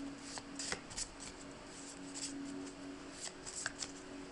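Oracle cards are shuffled by hand in a run of crisp, quiet riffling flutters and soft slaps across the whole stretch, close by, with a faint steady hum underneath and no talking.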